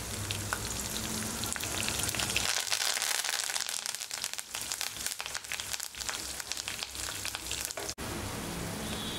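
Dried red chillies, green chillies and curry leaves crackle in hot oil for an okra tamarind gravy, a dense, continuous sizzle with brief spits and pops, close by with no talk.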